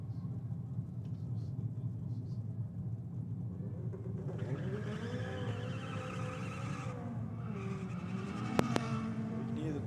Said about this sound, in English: Tyres struggling for traction out of the Honda.